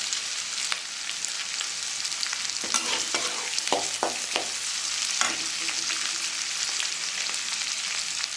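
Asafoetida dropped into hot oil in a frying pan, giving a continuous sizzle with a few sharp crackles and pops and some stirring scrapes.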